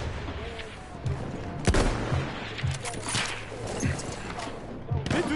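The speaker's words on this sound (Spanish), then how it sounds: "Y es un juego de disparos más al final del día." Gunfire in a shooting video game comes as scattered sharp shots and short bursts, moderately loud but fairly quiet overall, with a player talking over the action.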